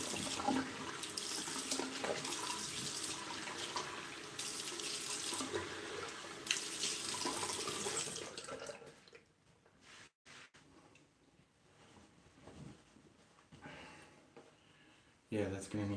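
Hot water runs steadily from a tap into a sink during a wet shave, a broadband rush lasting about eight seconds before cutting off, with quieter handling sounds and brief talk afterward.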